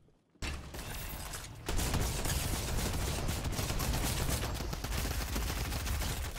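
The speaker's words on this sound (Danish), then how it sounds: "Jeg tænker, det er en granat launcher." Rapid bursts of gunfire and launcher shots in Fortnite, loud and continuous after a brief quiet start, intensifying into a sustained barrage with no talking.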